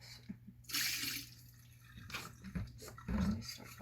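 Cups are washed at a sink under running water, with soft splashing, dripping and clinks of handling, faint and close, with no talk.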